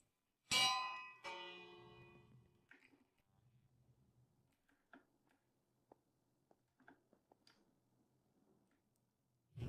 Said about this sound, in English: I think I'm going to try using the bell